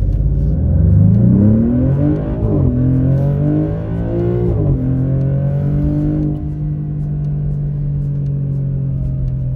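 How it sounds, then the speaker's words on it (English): A 2024 Maserati GranTurismo Modena revs hard and climbs through gears during a drag test, a loud throaty exhaust roaring up in pitch, dropping at shifts, then holding a steady drone. "Hope everybody heard that exhaust."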